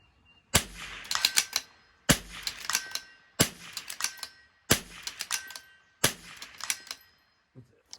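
A Vudoo V22 rifle fires five sharp reports at a steady pace, each followed by a quick metallic clatter of the bolt being worked, loud and close with brief quiet gaps between shots.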